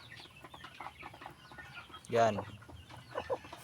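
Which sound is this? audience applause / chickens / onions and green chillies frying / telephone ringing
chickens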